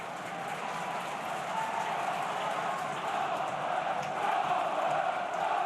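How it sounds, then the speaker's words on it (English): Home crowd at Middlesbrough's stadium roaring and cheering during a Championship football match against Blackburn Rovers, a steady dense wash of massed voices that swells slightly toward the end. "It's the home crowd get right behind their team."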